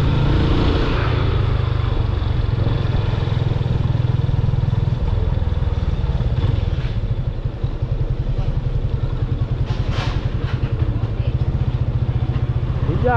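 Motorcycle engine running while ridden on a route out of Alphaville toward Cotia, a close, steady rumbling putter with clutch-dependent revs that dip and rise midway, rider's voice heard briefly over it.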